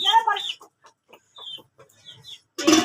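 Chickens cluck in short, scattered bursts nearby, with quieter pecking-like clucks between louder bursts at the start and end.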